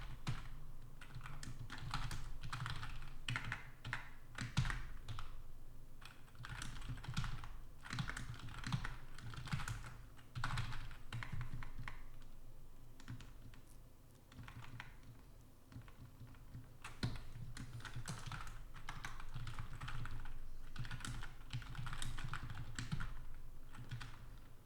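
Steady clattering keystrokes on a computer keyboard, fast and irregular, continuing alone for the whole stretch at a fairly quiet, close level.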